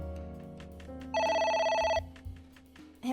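Telephone in the video game AI: The Somnium Files rings with a steady electronic tone, one sustained burst of about a second standing out loudly over a quieter musical game background.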